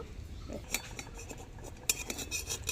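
A metal lid is lifted off a hot wok where wheat-flour batter is cooking, giving a couple of clinking metallic knocks over a soft background sizzle, close and fairly quiet, no talking.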